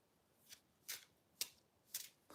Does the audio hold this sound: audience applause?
no